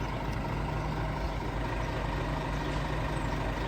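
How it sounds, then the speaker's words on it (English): A big Scania R450 truck idling in a farmyard during hay carting, a steady low diesel rumble with faint hiss, continuous and moderately distant, with no talk. "Oh, it's a big Scania R450."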